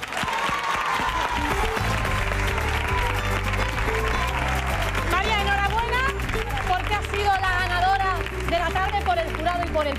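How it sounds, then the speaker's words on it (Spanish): Applause and cheering from the jury and studio audience at a Spanish afternoon TV talent contest, a steady, dense roar of clapping lasting about ten seconds over loud music, with crowd voices mixed in. "te vas a llevar este pedazo de aplauso de nuestro jurado y del público"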